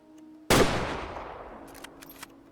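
A single sharp rifle shot from a hunting rifle in the video game Way of the Hunter cracks loudly and close, then trails into a long fading echo, with a few faint high clicks afterward.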